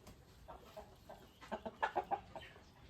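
Young roosters cluck and squawk in a short burst of several quick, close calls over quiet background.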